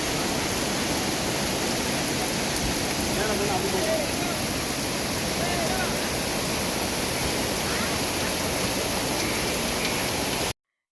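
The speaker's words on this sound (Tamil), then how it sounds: "நல்ல ஒரு அழகான பியூட்டிஃபுல் ஃபால்ஸ் இது தண்ணி செம்ம சில்னஸாக இருந்தது" A waterfall at Chikkamagaluru roars close by as a dense, steady rush of falling water that stays constant and loud throughout.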